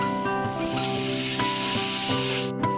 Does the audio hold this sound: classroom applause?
no